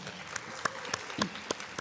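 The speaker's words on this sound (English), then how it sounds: "let's give her a round of applause" Thin applause at a book-festival panel: a few scattered, distinct claps over a murmuring room, heard from a short distance.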